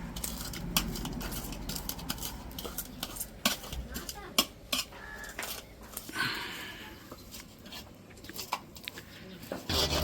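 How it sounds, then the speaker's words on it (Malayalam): Kanthari chilies being crushed with a large spoon in a cheenachatti pan: irregular metallic clinks and scrapes, close and moderately loud, with a brief rougher scraping stretch midway and occasional faint voice in the background. "വേറൊരു വലിയ സ്പൂൺ എടുത്തിട്ട് അത് വെച്ചിട്ടാണ് ഇതിനെ ഉടക്കുന്നത്"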